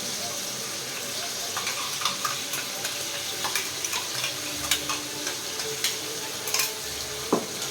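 A ginger and chili paste being stirred into softened tomatoes in a hot pan, with scraping and sizzling, a few sharp knocks of the utensil against the pan, and faint talk beneath.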